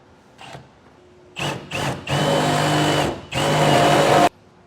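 A power drill whines in several bursts while drilling through the bed of a 2019 Ram 2500 truck, short at first and then two long sustained runs, loud and close, with no talking.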